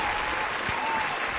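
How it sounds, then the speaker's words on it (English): Audience applause at a Devil May Cry 1 Any% speedrun tournament, a steady wash of clapping hands sustained throughout with no breaks and no voices on top. "Let's get some applause out here."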